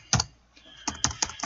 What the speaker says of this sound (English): me typing these programs live